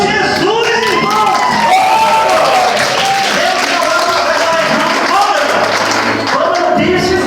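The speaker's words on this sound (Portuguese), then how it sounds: "Aplaude Jesus, irmão." A church congregation claps for Jesus during a Portuguese-language sermon, a lively burst of clapping and cheering mixed with voices and singing-like tones throughout.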